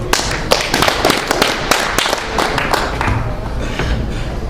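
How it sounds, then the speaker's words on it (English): An audience at an open mic night bursts into steady applause, dense overlapping claps from a room full of people, loud and close, tapering slightly near the end. "Round of applause."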